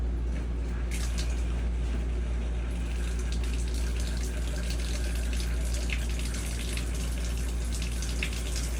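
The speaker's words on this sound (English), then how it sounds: "So if you turn your water pump on, this is when we were dry camping." A fresh-water pump in a Greystone RV runs from the fresh tank while water flows steadily from a tap, a continuous low hum and rushing stream filling the whole stretch with no talk.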